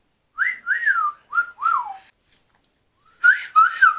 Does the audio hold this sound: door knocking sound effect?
no